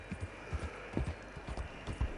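Horse hooves clip-clop in a steady, uneven rhythm of low thuds, close by and moderately loud, with no voices over them.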